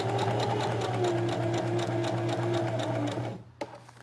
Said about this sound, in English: So we're going to sew down on this side, and we're just going to follow the stitch that's already there.